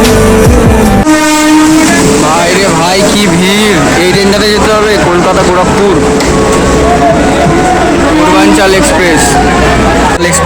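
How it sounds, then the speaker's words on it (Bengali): Purvanchal Express passenger train bound for Gorakhpur running along the rails, a loud continuous rumble with horn-like tonal bursts and steady wheel noise, with people talking over it throughout. "পূর্বাঞ্চল এক্সপ্রেস এই এই ট্রেনটা পুরো যাবে হচ্ছে গোরখপুর পর্যন্ত"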